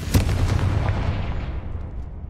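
A Confringo fire spell explodes in the Hogwarts Legacy video game, a loud booming blast with a sharp attack that rumbles and decays over about two seconds, with no talk over it.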